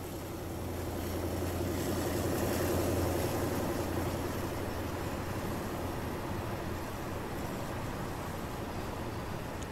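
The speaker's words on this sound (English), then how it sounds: "Sixteen-cylinder engine," A 1960s-vintage sixteen-cylinder diesel locomotive engine drones steadily in Train Sim Classic on a Taurus Mountains, Turkey route, producing a continuous, moderately loud low rumble with no pauses.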